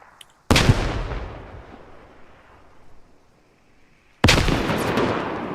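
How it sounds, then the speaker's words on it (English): Two heavy grenade blasts boom in a 6v6 competitive shooter match, each a loud sudden burst with a long rumbling decay, the first dying away before the second hits near the end. "Massive nade spam going off on the cap here."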